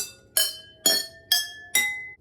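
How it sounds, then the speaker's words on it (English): Four water-tuned glass cups of a microtonal xylophone struck one after another at an even pace, each a bright ringing tone with a short decay, clear and close. "Now my microtone xylophone sounds like this."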